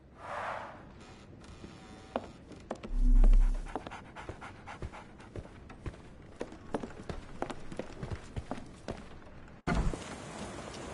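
A dog pants in the video game Sherlock Holmes The Awakened, with steady quick breaths under a busy game soundscape of footsteps and clicks and a brief low thump partway through.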